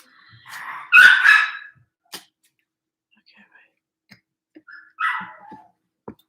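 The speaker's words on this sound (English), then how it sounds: "my dog is upset" An upset pet dog gives a few short, sharp barks and whimpers indoors, one louder cluster early and another a few seconds later, with quiet gaps and small knocks between.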